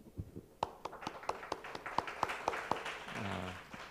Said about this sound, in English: Let's give Dr. Wu a warm applause.